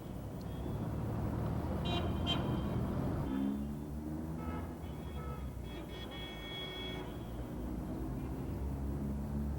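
Dense road traffic along Paseo de la Reforma, Mexico City's ten-lane grand boulevard, a steady rumble of passing cars and trucks with occasional horn toots, continuous and fairly distant.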